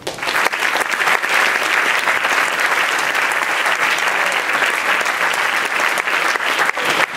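Sustained, loud applause from a large audience at a school sports awards ceremony, a dense steady wash of clapping lasting several seconds without pause.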